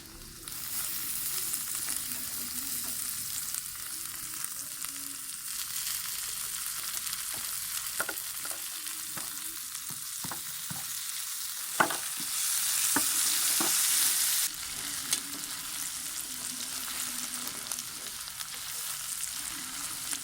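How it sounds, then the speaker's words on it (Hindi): Garlic and ginger frying until brown in a pan for a ginger-garlic curry, a steady loud sizzle with occasional spoon scrapes and stirring clatter across the whole stretch. "अब हम डालेंगे इसमें लहसुन और अदरक ताकि ये भी इसके साथ ब्राउन हो जाए।"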